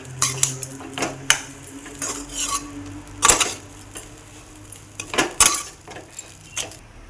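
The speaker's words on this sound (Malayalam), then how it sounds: "ഇത് നന്നായിട്ട് മിക്സ് ചെയ്യും" A spoon mixes puttu upma in a metal pan, with sharp clanks and scrapes against the pan at irregular intervals and quieter stirring in between, close by and without talk.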